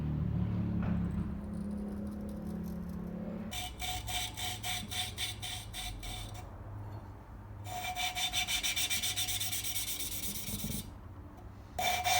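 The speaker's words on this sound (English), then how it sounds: "You can kind of listen to the pitch of the grinding compound changing as you go." Steady gritty rubbing scrapes back and forth in bursts as a Yamaha Virago engine valve is lapped with grinding compound, a rough grinding rasp that pauses briefly between rounds over a low background hum.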